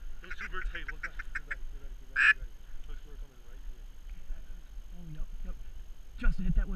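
A burst of mallard duck quacking, a rapid series of nasal calls followed by one louder quack, mixed with people talking and outdoor background noise during a duck hunt in Michigan's Upper Peninsula.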